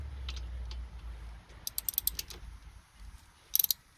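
A 3/8-inch drive ratchet clicks in short bursts as it tightens wheel bearing bolts on a Toyota RAV4, with a low rumble at the start and brief pauses between the bursts of clicks.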